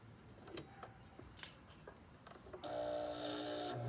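A sewing machine straight stitching layers of fabric for a face mask, starting with scattered light clicks and handling noises, then whirring steadily and close for the final second.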